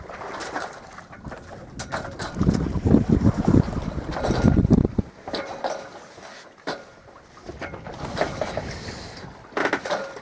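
A sailboat under genoa, nearly becalmed in light wind. Gusty wind buffets and rumbles, with soft creaks and faint bird calls around it.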